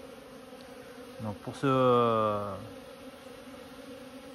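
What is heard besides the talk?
honeybees flying figure-eight orientation flights near hive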